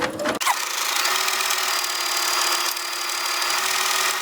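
An embroidery machine sewing a green satin stitch around leaves on an in-the-hoop pocket purse, a steady, loud mechanical whirring hum that runs continuously without pause.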